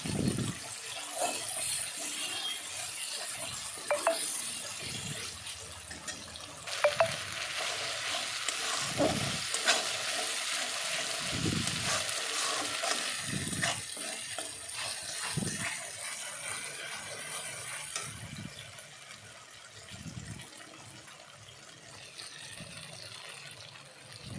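Spice masala for a cauliflower curry fries in a pan, a loud continuous sizzle broken by repeated scraping strokes as it is stirred close up.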